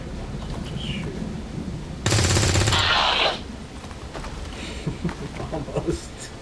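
Rapid automatic gunfire in the tactical game XCOM 2, one loud dense burst of shots lasting about a second in the middle, set against quieter game sounds and soft background talk.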